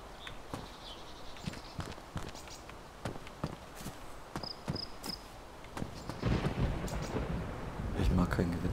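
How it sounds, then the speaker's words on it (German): A thunderstorm in the video game DayZ brings rain and rolling thunder, with low rumbles growing louder toward the end, mixed with repeated footstep-like thuds and a faint voice in the background. "Ich mag kein Gewitter"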